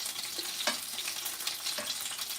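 Pelmeni dumplings fry in a pan with a continuous close sizzle and crackle of hot oil, plus a few short stirring scrapes.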